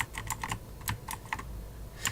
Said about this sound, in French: Excusez-moi pour le bruit de clavier si vous l'entendez.